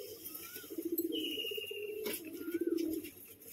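A roller pigeon offered for sale coos in low, rolling bursts, two clear bouts a couple of seconds apart, close by over faint background noise.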